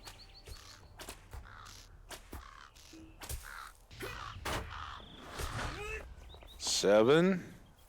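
Crow cawing in the Lord of the Rings Online video game, several harsh caws scattered across the scene amid game ambience, with a louder cry near the end and someone talking over it.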